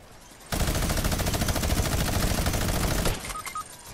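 A video-game sniper fight opens with a sudden loud burst of gunfire that holds as a dense, continuous rattle of shots for about two and a half seconds, then cuts off into quieter game sounds.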